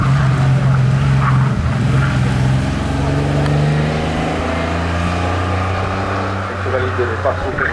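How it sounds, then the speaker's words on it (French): A Citroën Saxo race car at a hill climb, its engine a steady loud drone that rises in pitch as it accelerates, under continuous commentary. "vu la voiture qui est une Citroën Saxo, ça devrait être Terry Schopfer"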